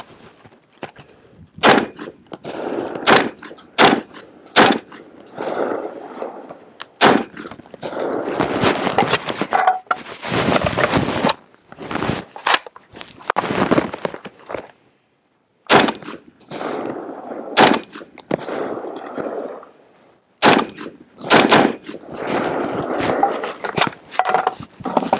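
A UTAS XTR semi-automatic shotgun fired repeatedly outdoors, sharp loud blasts spaced irregularly across the stretch, some in quick pairs, with clattering handling and rustle between shots.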